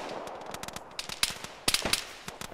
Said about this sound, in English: I just can't see where they're shooting at me from.